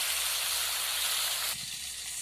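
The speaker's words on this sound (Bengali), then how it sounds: "দিয়ে এবার ঝিঙেটা অল্প করে ভেজে নেব।" Ridge gourd with a little turmeric fries lightly in hot oil, a loud, dense, steady sizzle close up that abruptly softens partway through, no voices.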